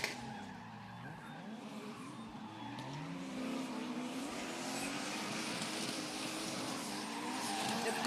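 A Toyota Altezza and a BMW drift at a car event, engines revving and tires squealing in long, rising swells that build steadily louder over several seconds, heard from a moderate distance.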